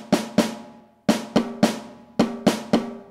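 Snare drum samples triggered from an electronic multipad, a series of crisp, close hits in short clusters with uneven spacing, each ringing briefly, with no talk over them.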